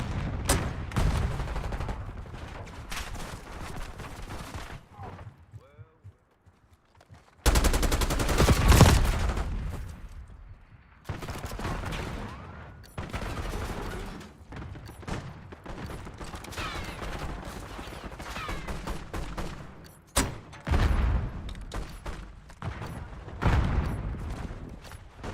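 Gunfire during a video game mission to protect a high-value target: sustained rapid bursts and volleys of shots and booms, loud and continuous, break off into a brief lull partway through, then resume.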